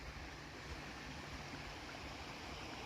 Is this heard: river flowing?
yes